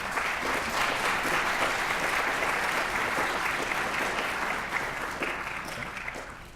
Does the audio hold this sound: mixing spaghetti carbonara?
no